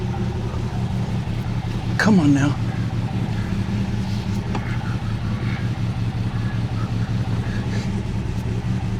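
A 1969 Mercedes engine idles steadily while the car slowly backs up, a low constant drone throughout with a brief spoken remark near the start.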